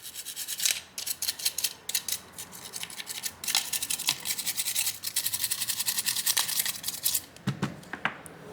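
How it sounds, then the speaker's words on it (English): A small brush scrubs inside an opened Dual Shock 2 controller, making quick, close scratchy bristle strokes in uneven bursts that repeat for several seconds. "I'll give this a bit of a brush."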